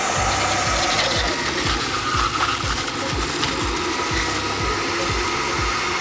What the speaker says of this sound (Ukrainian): аж тепер ми можемо давити сік